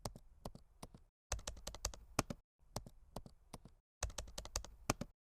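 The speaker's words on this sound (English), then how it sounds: "keyboard buttons" Quiet computer keyboard typing in four separate bursts of rapid key clicks, each broken by a short pause, recorded close up with no talking.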